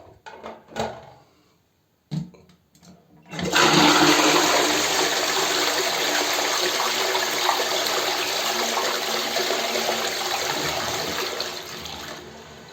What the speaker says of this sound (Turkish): İyice fırçaladıktan sonra şimdi sponu çekelim.